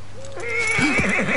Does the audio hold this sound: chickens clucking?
no